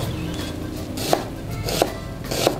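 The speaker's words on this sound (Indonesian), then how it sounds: "Selanjutnya kita mau iris bawang bombay." A knife cuts a yellow onion into cubes on a board, three distinct, fairly close chops spaced well apart and heard alone.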